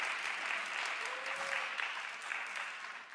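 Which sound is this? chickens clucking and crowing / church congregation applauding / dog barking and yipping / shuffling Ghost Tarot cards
church congregation applauding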